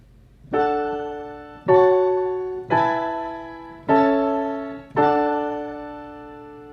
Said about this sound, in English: the pitch shift sounds like this